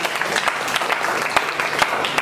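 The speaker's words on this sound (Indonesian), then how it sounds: "Berikan tepuk tangan bagi Tuhan Allah" A church congregation claps for God during an evening prayer service sermon, loud dense applause filling the room close and continuous with no speech over it.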